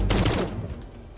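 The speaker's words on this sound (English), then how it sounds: "it can shoot cannons!" Cannon blasts from a Zombie AT-AT walker in the Brick Rigs video game, a rapid cluster of booming shots at the start that quickly trail off into a decaying rumble, heard alone.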